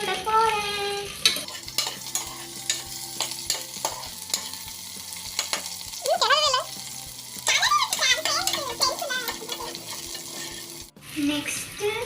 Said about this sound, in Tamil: கலக்கி விட போறேன்